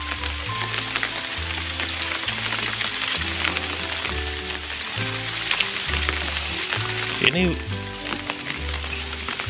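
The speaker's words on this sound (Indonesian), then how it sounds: "hujan rintik-rintik nih teman-teman" Light drizzle falling on a chili field, a steady fine hiss like frying with a low engine or pump droning in rhythmic bursts beneath it, and a voice speaking briefly.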